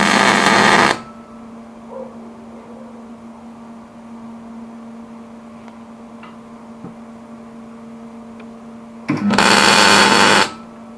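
Two short bursts of tack welding on a steel car rotisserie part, each about a second of loud crackling hiss at the start and end, separated by a quiet stretch of steady electrical hum.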